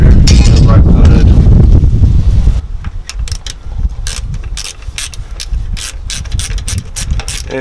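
Ratchet fitted with a 13mm rubber-coated socket turns the starter bolts on a 2010 GMC Savana, giving a run of rapid, loud metallic clicks up close after a burst of heavier mechanical noise.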